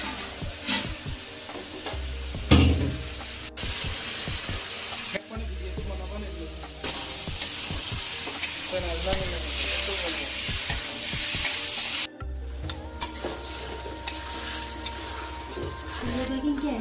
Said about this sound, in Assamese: মাংসখিনি আমাৰ বঢ়িয়াকৈ ভজা হৈ গ'ল।